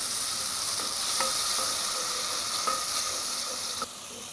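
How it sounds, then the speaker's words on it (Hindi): Gravy for an arvi leaf curry sizzles steadily in a pan as yogurt is added, a continuous close frying hiss with faint stirring ticks and a slight drop near the end. "इधर हमारी ग्रेवी भी रेडी हो रही है, अब हम इसमें दही डाल देंगे।"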